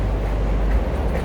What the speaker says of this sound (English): And you can hear the trains in the background.